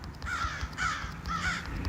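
Three harsh crow caws repeat at a steady pace, fairly close and clear over a low outdoor rumble, with no talking.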